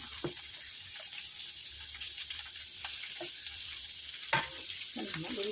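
Chopped ridge gourd frying in hot oil for a chutney, a steady crackling sizzle with scattered stirring clinks, close and without talk.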